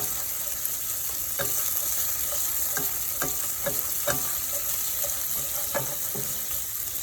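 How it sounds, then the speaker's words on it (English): Onions fry in a pan for an eggplant curry, a constant close sizzle broken by a few sharp clicks and taps of stirring. "while the onions is cooking, while the onions are getting lightly golden brown"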